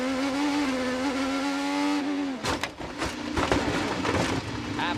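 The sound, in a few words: IndyCar onboard audio of Will Power's car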